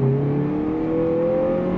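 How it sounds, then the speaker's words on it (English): A 2022 Lexus NX 350 F Sport with a turbocharged four-cylinder accelerating under throttle in Sport Plus mode, a steady rising engine drone heard from inside the cabin, brief and continuous without talk. "Let's go ahead and go on throttle real quick."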